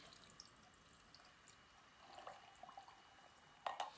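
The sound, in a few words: straining a drink into a glass of ice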